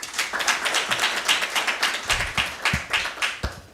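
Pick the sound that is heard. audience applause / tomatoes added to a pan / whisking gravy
audience applause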